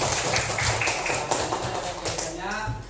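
Applause breaks out among students in a classroom, a dense patter of clapping filling the room with voices mixed in over it.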